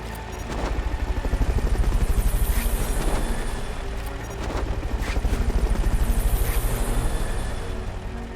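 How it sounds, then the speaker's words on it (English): A helicopter in the Metal Gear Solid: Peace Walker video game gives a loud rhythmic rotor chop that swells twice, mixed with sharp bursts that sound like gunfire, and no talk. "Fulton recovery subject confirmed onboard helicopter."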